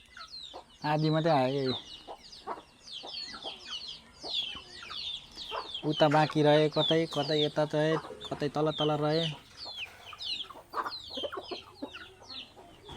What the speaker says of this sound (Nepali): घरका कुखुराहरू